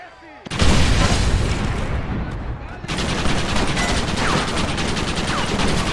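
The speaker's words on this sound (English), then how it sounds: "We will blast through the door with gunpowder barrels." Gunpowder barrels blow open a mansion door in Red Dead Redemption, bursting into a loud, dense roar of blasts and gunfire that holds steady for several seconds, with voices shouting underneath.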